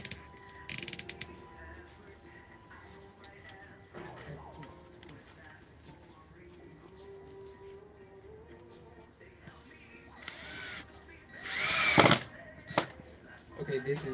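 An INGCO drill has its bit head loosened and swapped: soft ratcheting clicks and small mechanical rattles, a sharp clack early on and a louder grinding burst near the end, with a low voice faintly in the background.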